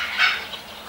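A single loud, harsh mandarin duck call, a brief nasal squawk rising and fading within a second, close by.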